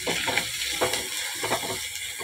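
Onions and green chillies sautéing in oil with salt, a steady broadband sizzle with a few louder stirring scrapes spaced through it, close and continuous with no talk.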